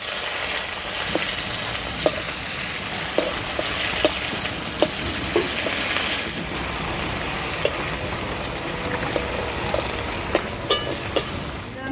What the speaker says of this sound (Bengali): পেঁয়াজ হালকা করে ভেজে নিয়েছি।